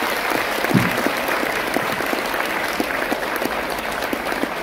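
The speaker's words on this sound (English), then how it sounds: "So you need a big round of applause for yourself." A full school auditorium of students claps in sustained, even applause, a dense wash of hands at a moderate distance with no talk.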